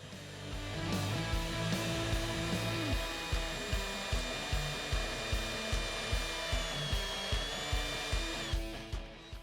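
Step drill bit boring a roughly 20.5 mm hole through a plastic switch blank, a steady power-drill whine with a regular pulsing chatter as the bit's steps catch, loud and close with no talk.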